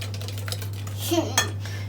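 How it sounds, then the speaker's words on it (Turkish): Sugar and eggs whisked in a bowl for cupcake batter, a brief run of quick clinks and scrapes of the whisk against the bowl over a steady low hum. "Şekerimizi ve yumurtamızı iyicene çırpıyoruz"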